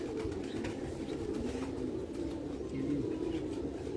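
Prized pigeons of the Heera Laal breed coo softly and continuously, a low murmuring burble close by with a steady rustling background and no talk.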